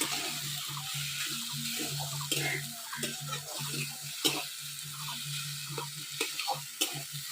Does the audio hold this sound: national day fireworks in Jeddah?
no